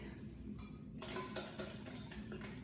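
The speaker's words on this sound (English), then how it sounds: "Garlic powder, half a teaspoon of garlic powder. And we'll give that a whisk." Whisking garlic powder and spices in a bowl: quiet, quick metallic ticks and clinks of a whisk against the bowl in a steady rapid rhythm, close and faint.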